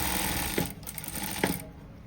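A sewing machine stitches a fabric strip laid diagonally over a marked line for a pent mori design, a steady close whirring run with two brief louder thumps.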